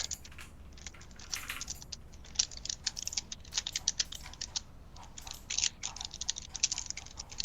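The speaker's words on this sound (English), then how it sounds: "What are you typing?" Typing on a computer keyboard, a steady close patter of quick clicking keystrokes with short pauses, fairly quiet and with no speech over it.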